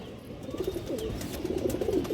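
A female pigeon cooing close by, soft low throaty coos repeated several times over a faint background hum, no talking.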